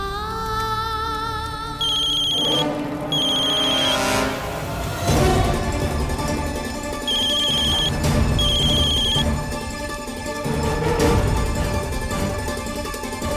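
An electronic phone ringtone repeats in short bursts over background music, loud and nearby.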